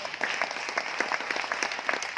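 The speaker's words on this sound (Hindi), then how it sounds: "ताली बजाएं इनके लिए जोरदार वाली।" A brief burst of crowd applause at a meeting in Aurangabad, Maharashtra: steady, moderately loud clapping from many hands for about two seconds.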